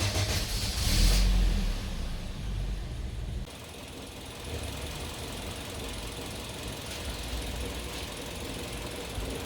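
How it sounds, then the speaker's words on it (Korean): A car engine idles roughly with a misfire in a repair workshop, giving a steady, uneven running note that is loudest in the first few seconds and then settles lower. "엔진 소리가 좀 거칠고 부조할 때"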